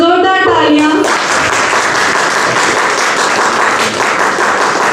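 An audience at an Indian theatre festival breaks into loud, dense applause as a guest is called to the stage, following a brief voice at the start and filling the rest of the moment.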